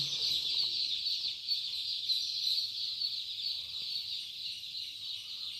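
Young chicks cheep in a dense, continuous chorus on a small poultry farm, high and steady throughout with no talk.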